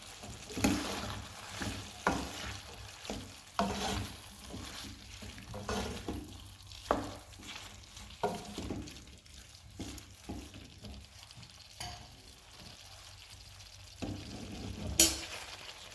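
Bell peppers frying in a pan, with soft sizzling and intermittent scraping stirs and clinks of a utensil across the cooking surface, moderately loud with a few sharper knocks near the end.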